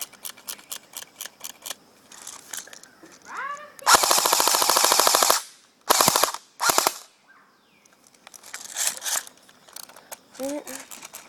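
A KingArms M4 airsoft rifle tuned to 495 fps fires in rapid full-auto bursts, one long and several short, with a sharp mechanical clatter between them and someone talking briefly nearby.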